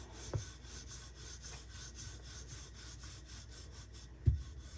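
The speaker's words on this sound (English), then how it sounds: "you can wipe off the excess dry flour like this, and then roll it again" Flatbread dough is rolled out with a rolling pin, producing soft, continuous rubbing strokes with two louder knocks of the pin, close and quiet, no talking.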